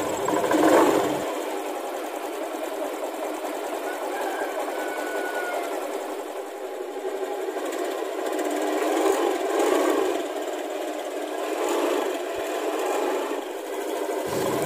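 A Honda Beat scooter engine runs steadily after a crankshaft bearing replacement, a smooth, even mechanical whir with a faint rattle, close and continuous for the whole stretch with no talking.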